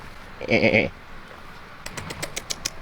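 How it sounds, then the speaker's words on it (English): Goats on a farm let out one loud bleat, then a string of quick, softer bleats a moment later, close by with no talk over them. "Are those billy goats?"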